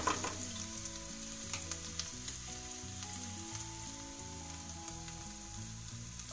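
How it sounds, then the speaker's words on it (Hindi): Cumin seeds and garlic crackle and sizzle in hot oil in a pan for a vegetable curry, a steady soft frying hiss with scattered pops and a faint background hum, quiet and close. "जीरा तड़कने लगे फिर इसमें डालेंगे हम लहसुन"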